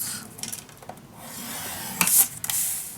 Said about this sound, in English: let's get our scoreboard and just score 1/2 inch all the way around